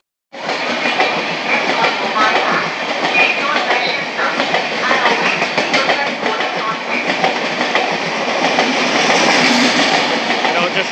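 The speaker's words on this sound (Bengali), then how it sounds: "এটা হচ্ছে সরাইঘাট এক্সপ্রেস, হাওড়া গুয়াহাটি।" Saraighat Express, the Howrah–Guwahati train, passing close by with a loud, steady rush of rail noise and rattling wagons throughout, its roar swelling slightly near the end.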